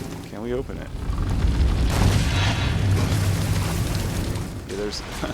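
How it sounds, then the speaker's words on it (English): Cannon fire from behind a door in the video game Nioh: heavy, rolling booms and a sustained rumbling blast fill the clip, with a voice briefly heard over them. "there's somebody with a cannon right on the other side of that door"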